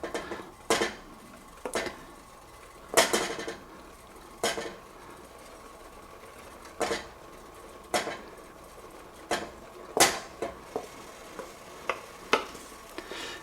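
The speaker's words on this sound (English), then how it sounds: "So I am just spooning in the mix." Herbed stuffing mix is spooned into a pot of simmering butter and broth, producing a series of sharp clinks and scrapes of the spoon against the pot at irregular intervals over a faint background simmer, with no talking.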